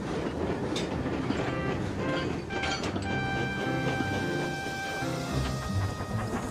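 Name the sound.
train engines pulling away in video game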